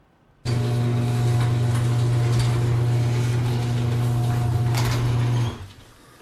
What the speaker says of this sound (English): his garage door finally opened this morning